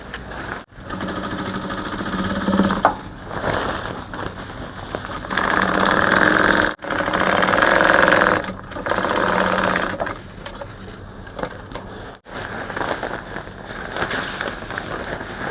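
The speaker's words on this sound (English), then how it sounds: "You take back to your sewing machine, you close with 1 inch" A sewing machine hems the edges of a kimono dress, stitching in loud, continuous bursts separated by short pauses as the fabric is repositioned.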